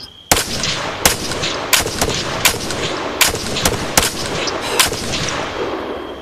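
Repeated sharp gunshots crack at irregular intervals, about one every half second to second, over a constant noisy battle background in the video game Arma 3.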